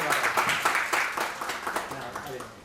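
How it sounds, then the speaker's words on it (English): Audience applause welcoming a special guest, a hospital founder, at a junior school graduation day ceremony, steady clapping that rises and falls over the whole stretch, with a voice speaking over it. "Let's give him a big round of applause."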